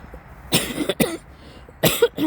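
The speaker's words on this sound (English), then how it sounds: "Sorry, still got this stupid cough." Someone coughs close up, a couple of harsh coughs in quick succession, then a pause and another pair of coughs.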